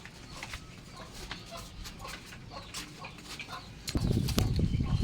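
Pigeons in a loft, including black feather-footed birds: scattered soft cooing and clucking close by, with a burst of wing flapping toward the end.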